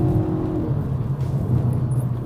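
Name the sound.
2019 Kia Forte GT 1.6L turbo accelerating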